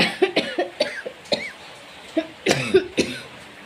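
A person coughs repeatedly in short, close, harsh bursts, roughly a dozen spaced through the clip.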